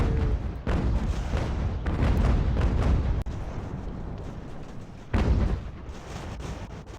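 Musket volleys and artillery booms in Ultimate General: American Revolution, a strategy game set at the Battle of New York and Fort Clinton: loud, dense crackling gunfire with sudden heavy cannon blasts and sharp cutoffs, no talking.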